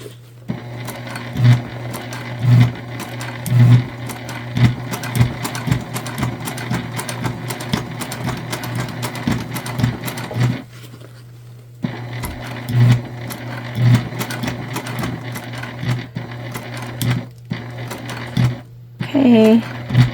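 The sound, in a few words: sewing machine back stitching fabric gift bag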